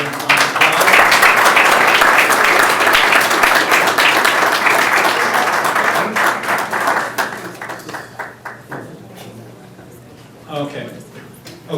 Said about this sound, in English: I'd like to give everybody a round of applause.